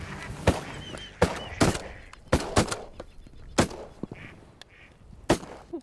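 Several sharp, loud shotgun blasts at ducks ring out in irregular succession during a waterfowl hunt in British Columbia, with faint duck calls and outdoor noise between them.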